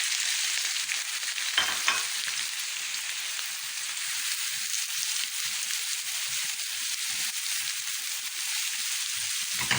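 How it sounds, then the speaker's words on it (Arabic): Onions sizzle and crackle steadily in hot oil in a pan, loud and close, with no talking. "حطينا طاسه على النار، ضفنا فيها 3 معالق من الزيت، هنضيف فيها 3 بصلات"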